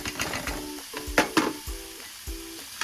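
Onions fry in a pan with a soft sizzle, broken by several dull, rhythmic scrapes and knocks of stirring, close and fairly quiet, with no voice.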